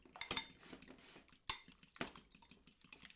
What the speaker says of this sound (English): So I'm just going to use a fork to mix this together.